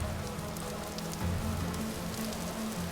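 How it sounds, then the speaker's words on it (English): Steady rain falls in the video game Vintage Story, a dense even hiss of drops on surfaces with a low hum underneath. "It'd be so much better if the rain would stop, though."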